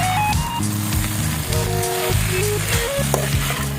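Potatoes and mushrooms frying in a pan with sauce and black powder spice, giving a steady close sizzle with stirring and scraping noises and some faint tonal background sounds.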